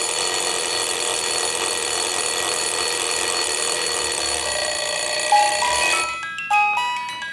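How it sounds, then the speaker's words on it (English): A Jaeger-LeCoultre musical alarm clock sounds its buzzer alarm, a steady, loud metallic ringing that holds for several seconds, then cuts off as a few clear musical chime notes begin. "So first the buzzer alarm."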